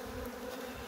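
Honeybees buzzing steadily as they are shaken out of a hive, a dense continuous hum, close and even throughout.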